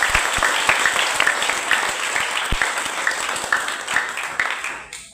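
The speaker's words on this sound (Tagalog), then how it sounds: "Palakpak para sa Ginoo." A church congregation applauds in praise of God during an evening worship service, loud, dense clapping that holds steady before tapering off at the end.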